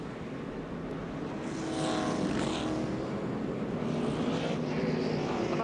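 NASCAR Busch Series race cars at the 2006 Circuit City 250 roar past in a loud, sustained engine drone that swells midway as a pack goes by, with one driver lifting off the throttle.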